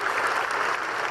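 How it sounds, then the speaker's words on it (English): A large room of delegates at international climate talks breaks into applause, a dense continuous clatter of many hands heard from within the crowd, steady and moderately loud for the whole moment. "To huge applause from the room."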